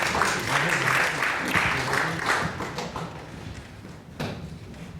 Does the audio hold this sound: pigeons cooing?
no